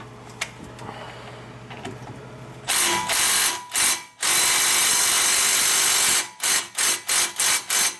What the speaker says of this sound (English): just get yourself an Impact that's got at least 150 foot-pounds of torque